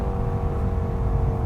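A BMW E92 M3 accelerates with its exhaust giving a close, loud, steady roar and faint crackles over the engine drone.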